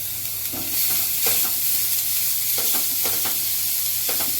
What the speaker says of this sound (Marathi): छान आपण सगळं फास्ट गॅसवरतीच परततोय.